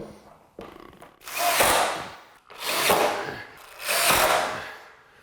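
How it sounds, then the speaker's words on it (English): A power drill drives screws into wood in a quiet room, making three separate whirring bursts, each rising and falling over about a second, with short pauses between them. "I'm actually screwing all this together"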